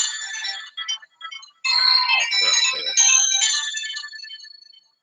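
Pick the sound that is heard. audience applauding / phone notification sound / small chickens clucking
phone notification sound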